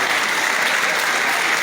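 A large audience at a university inaugural lecture gives a brief, sustained burst of applause, steady and close, with no talking.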